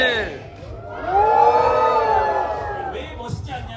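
A gathered crowd at an outdoor community rally lets out a rising, sustained cheer and shout that swells, holds, then fades, loud and close, with a voice speaking at the start and end.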